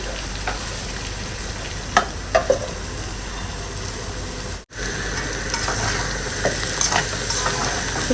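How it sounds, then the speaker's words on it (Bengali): Bitter gourd fries in a pan with a steady close sizzle, broken by a few light scrapes and clatters around two seconds in and a brief dropout near the middle, with no talking. "করলাটা দেখো একদম ভালো করে ভাজা ভাজা হয়ে গেছে"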